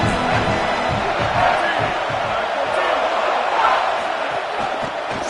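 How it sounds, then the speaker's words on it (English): Stadium crowd roar in the American football video game NCAA 26, a dense continuous cheer and din, loud and steady, with a voice faintly mixed in. "Man, this crowd really affecting the football game."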